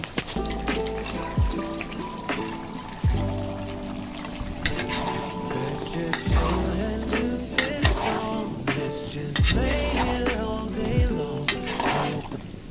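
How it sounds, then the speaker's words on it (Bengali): Potatoes are stirred into a frying beef curry, a busy wet churning and clatter with repeated sharp knocks of the spoon against the pot at a steady rhythm, close and continuous. "ভালো করে নেড়ে চেড়ে আলুগুলোকে মাংসের সাথে মিশিয়ে নিতে হবে"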